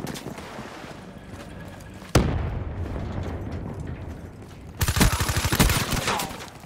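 Gunfire in the Call of Duty Black Ops 3 beta, a steady stream of shots under the mix that turns into a loud, close burst of rapid automatic fire near the end.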